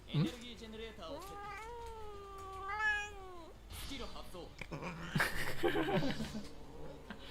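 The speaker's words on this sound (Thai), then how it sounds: "เฮ้ยแมวถึงกับไม่พอใจผมเลยนะครับ" Cat in the Vanguard Dear Days 2 video game lets out drawn-out, wavering meows and a whiny caterwaul, loud and close, with a person talking over the later part.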